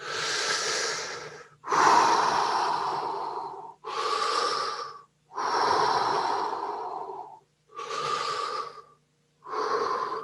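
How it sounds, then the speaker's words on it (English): Slow, deep, relaxed breathing during a guided breathwork exercise, with six long breaths, alternating inhales and exhales, each lasting about one to two seconds and separated by brief pauses. The breaths sound close and fairly loud, with no talking. "just breathe more deeply than you normally do. Just at a normal pace. You don't have to speed it up, but just taking deep breaths."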